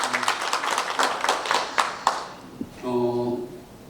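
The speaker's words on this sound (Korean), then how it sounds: "뜨거운 힘찬 박수 부탁드리겠습니다" Audience at a Korean county government project briefing claps in a short burst of sharp, fairly distinct claps that fades after about two seconds, followed by a brief voiced sound.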